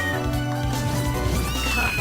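Cat meows from the video game Castlevania: Order of Ecclesia, a short tonal cry heard close and clear over steady game music, with no talking.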